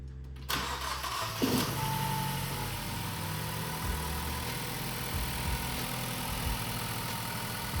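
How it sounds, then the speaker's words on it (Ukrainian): A black Ford Focus, freshly restored and given a boosted battery, has its engine cranked and started, then it settles into a steady close idle that runs on alone. "машинку підкинули акумулятор. Пробуємо запустити."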